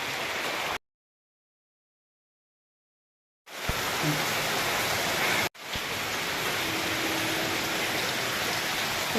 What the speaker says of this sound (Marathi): आता जोरात पाऊस आला